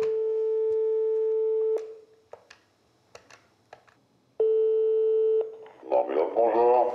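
A telephone line tone sounds while a French journalist calls a company about an ambulance-driver internship: a long steady tone, then clicks, then a second tone, before a voice answers on the line.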